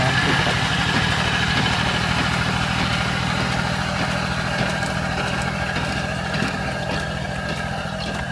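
A Yanmar AP4 rice transplanter engine runs steadily at idle, a continuous low mechanical drone with a rattling throb that holds at an even, close level throughout.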